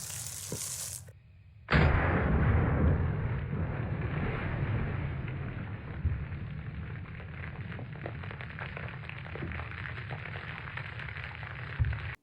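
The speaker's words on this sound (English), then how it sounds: "10 gauge cut shell against the Homer bucket." A Civil War-era Hyde Shattuck 10 gauge shotgun fires a cut shell at a bucket outdoors: a sharp, loud blast, then a long stretch of heavy rumbling wind and ambient roar.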